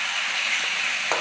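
Chicken pieces frying in hot oil for a spicy chicken kosha, a steady close sizzle with a brief stir partway through and a short scrape near the end.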